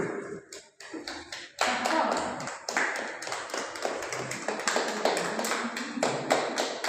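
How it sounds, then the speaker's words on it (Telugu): A small group claps hands together during a prayer at a new home, with a run of sharp, fairly dense claps that starts after a brief quiet moment, and faint voices are mixed in. "ఇద్దరు క్లాప్స్ కొట్టండి."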